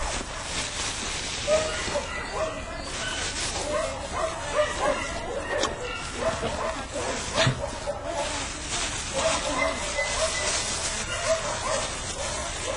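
Several dogs at an animal shelter in Tortuguitas yip, bark and whimper fairly faintly in a busy, continuous background, with scattered short cries throughout and some muffled voices mixed in.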